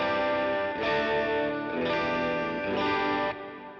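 A clean electric guitar tone through a budget pedalboard: sustained chords strummed in three swells, bright and full, ringing alone with a lush, slightly shimmering tone.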